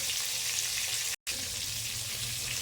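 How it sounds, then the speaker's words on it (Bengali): Prawns frying lightly in a pan, a steady close sizzling hiss with a brief cut to silence partway through, no voices. "চিংড়ি মাছগুলোকে হালকা হালকাভাবে একটু ভেজে নেবো, এপিট ওপিট করে।"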